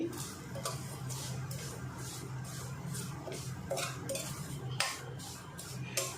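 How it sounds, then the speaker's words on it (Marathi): A spoon scrapes and taps against a metal kadai in a steady stirring rhythm while vermicelli roasts, with a faint low hum underneath. "आता याच्यात शेव भाजून घेते"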